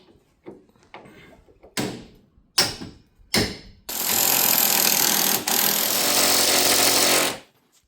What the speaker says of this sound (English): I just hooked up a ratchet strap here, and hopefully it can pull it in while I push it up and get the bolt in